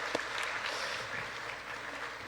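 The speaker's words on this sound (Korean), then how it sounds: "이 시간 좀 큰 박수로 격려해 주시면 감사하겠습니다" Church congregation applauding the children's Bible school teachers during a Sabbath worship service, a steady wash of clapping from many hands that sounds fairly faint and distant, with one sharper clap standing out near the start.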